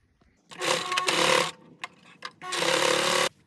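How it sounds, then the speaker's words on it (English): A sewing machine stitches seams on a men's shirt in two loud whirring bursts of motor and needle, separated by a short pause with a few light clicks. "we're gonna sew here at 3/4 of an inch and sew here at 3/4 of an inch"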